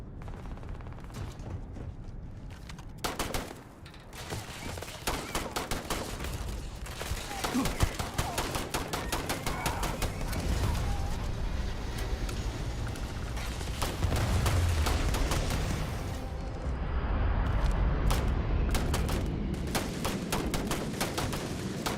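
Gunfire in the video game Starfield, sustained rapid bursts of automatic shots with scattered single cracks running throughout over a rumbling backdrop.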